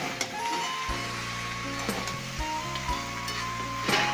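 Cabbage frying with fish head in a pan gives a steady, low sizzle, broken by several soft scraping and clinking stirs. No one speaks over it.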